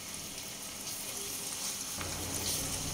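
Tomato paste hitting hot ginger-garlic paste in a pan for chana masala, a steady close sizzle and fry that thickens slightly toward the end.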